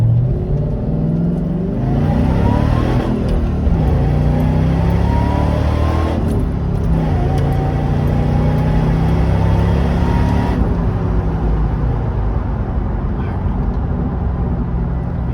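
Supercharged Ford Crown Victoria with a 5-speed manual accelerating hard: a loud, close engine roar climbs through the revs, drops at each gear change and rises again, sustained throughout.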